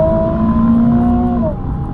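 Nissan 370Z Nismo sports car engine droning loudly and steadily, the tone holding then dropping slightly as the revs ease off near the end.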